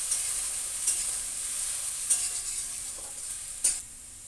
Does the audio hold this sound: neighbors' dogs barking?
no